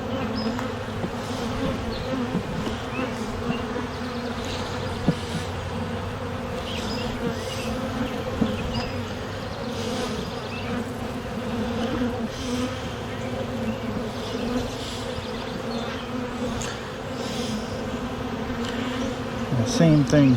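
Honey bees buzz in a steady, dense drone throughout a spring beehive inspection, close and continuous with no talk over it.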